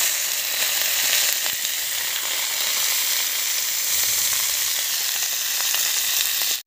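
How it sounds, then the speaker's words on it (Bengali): Cauliflower florets frying in hot oil in a kadai, a loud, dense and continuous sizzle heard close up with no talking, cutting off abruptly at the end. "তার জন্য কড়া গরম করে তেল দিয়ে নিয়েছি। এবার ফুলকপিগুলো ভেজে নেব।"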